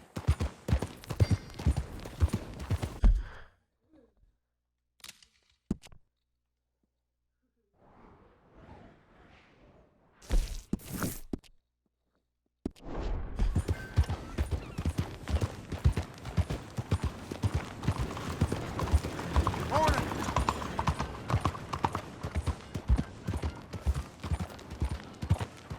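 Horse hooves clip-clop steadily in Red Dead Redemption 2, starting briefly, dropping out for a stretch, then returning as a dense, continuous gallop-like patter for the last half.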